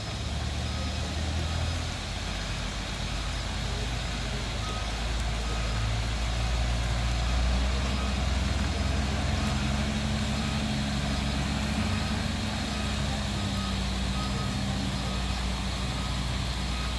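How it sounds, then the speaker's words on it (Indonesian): Pertamina tanker truck manoeuvring into the right lane on a road, a steady low engine drone with reversing beeps sounding continuously throughout. "truk Pertamina tadi yang akan mengambil jalur sebelah kanan"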